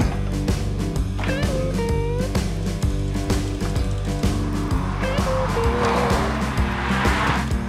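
A rare Sachs Carello three-wheeler's small engine chugs into life and keeps running with a rapid, pulsing putter, close and fairly loud.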